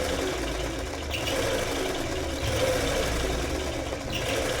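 A Pico embroidery sewing machine stitches a straight line with a steady, continuous mechanical whir and hum that holds even throughout, close by, with no talking.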